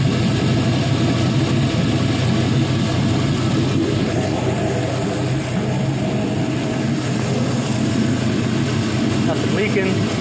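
A 5.3L LS V8 with 140k miles idling steadily, a loud continuous low rumble held close throughout, with a voice talking over it.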